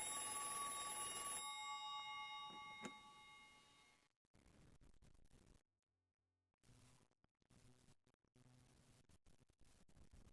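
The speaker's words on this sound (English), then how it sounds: "We enter, phone rings." A telephone rings in the video game Silent Hill 3 inside a locker room, a bright electronic trill that sounds loud and sustained at first, then cuts off, leaving eerie silence and faint, sparse, muffled ambient noise.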